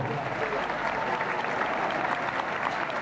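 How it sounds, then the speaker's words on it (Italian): Audience applause at an outdoor jazz festival concert, a sustained even roar of many hands clapping, heard from some distance with no clear break. "Un applauso grande."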